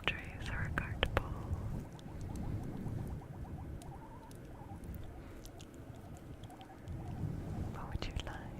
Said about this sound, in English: You're probably hearing me brushing on this fluffy cover, Moonstar